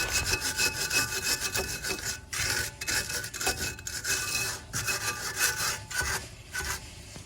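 A hand wire brush scrubs a front brake caliper on a Hyundai i20, repeated rough back-and-forth strokes in a steady rhythm, close up with no talking.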